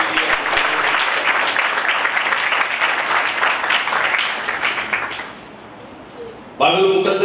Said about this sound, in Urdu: آئیے اپنے لیے زوردار تالیاں بجائیں۔